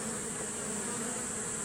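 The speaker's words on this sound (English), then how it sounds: "I got my angry bee around me. You can hear their bees when they get loud." Agitated honeybees near a beekeeper's hives buzz loudly and continuously right around the listener, a dense, steady drone with no talking.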